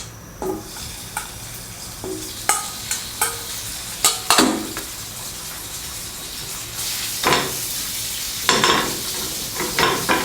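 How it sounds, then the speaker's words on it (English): Shrimp pan-frying in garlic oil for Yang Chow fried rice, with a steady sizzle underneath and repeated sharp scraping and clanking strokes of a utensil against the pan, loud and close, with no talking. "Now, use the garlic oil to pan fry the shrimp."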